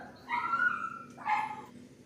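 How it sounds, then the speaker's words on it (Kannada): Black dachshund puppies give two short, high yipping barks about a second apart, close by and fairly faint against a quiet background. "ನೋಡಿ, ಬ್ಲ್ಯಾಕ್ ಕಲರ್ ಡ್ಯಾಶುಂಡ್ ಮರಿ ಇದೆ."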